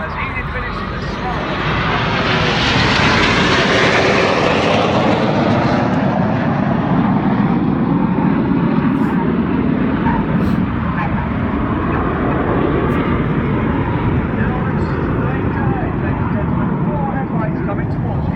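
Red Arrows jets roar overhead during an air show display at Sunderland, a loud continuous engine rush that swells and sweeps past, with a commentator talking over it.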